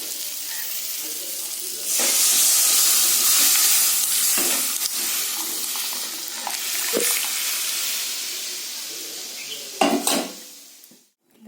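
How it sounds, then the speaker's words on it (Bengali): Cooked dal goes into a hot pan of tempered mustard seeds, dried and green chillies and turmeric, raising a loud hissing sizzle that slowly settles, with clattering pan and utensil knocks near the end. "আমি ডালটা ঢেলে দেবো"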